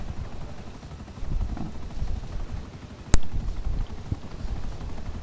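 A video-game helicopter drones with low rotor thumping and a steady engine rumble, marked by one sharp click partway through.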